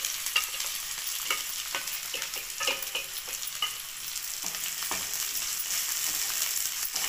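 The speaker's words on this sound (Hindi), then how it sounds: "अब इसमें मैं डालूंगी पहले प्याज और हरी मिर्च।" Onion and green chillies frying in hot oil in a kadai, a continuous close sizzle with light spatula scrapes and taps throughout.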